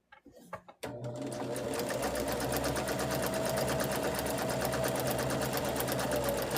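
Sewing machine stitching quilt pieces together, running in one long steady burst after a few brief knocks at the start, close and continuous with no talk.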